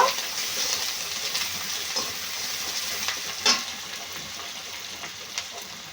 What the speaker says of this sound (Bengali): দিয়ে বেশ ভালো করে নেড়ে চেড়ে কষে নেব মশলাটা